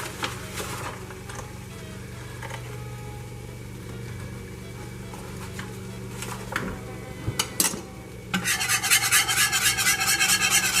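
A butter and flour roux is stirred in a pan, a soft, steady scraping and rubbing that turns into a faster, louder, rhythmic rasp near the end.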